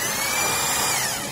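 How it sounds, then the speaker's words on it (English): Power drill boring into a pantry wall, a loud, steady high-pitched whine running close up through the whole moment with no voices. "Drill the wall while it's distracted."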